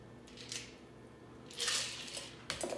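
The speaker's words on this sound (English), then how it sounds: "Grab a strainer, and we're going to strain that" Lemonade strained over fresh ice into a pint glass, giving a couple of bursts of splashing and crackling ice with light clinks of the strainer against glass, close and moderately loud between quiet gaps.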